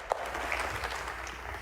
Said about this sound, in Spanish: Un gran aplauso a todos los médicos, médicas, enfermeras, enfermeros, paramédicos